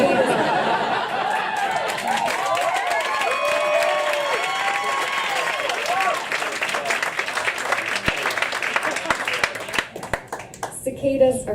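Enthusiastic audience applause following a poet's reading, thick clapping that fades out toward the end, with crowd chatter and a little cheering mixed in.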